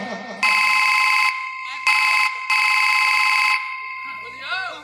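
An electronic bell rings loudly in three long, steady bursts with short gaps between them, and faint voices are heard just before and after the ringing.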